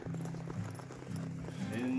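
Horse hooves clip-clop in a steady walking rhythm on a mountain pack trip, close and moderate, with a voice over them.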